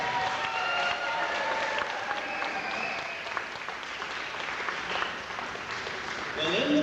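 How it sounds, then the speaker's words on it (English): A church congregation applauds steadily for several seconds, a broad even wash of clapping with some voices mixed in. "Can I get a round of applause?"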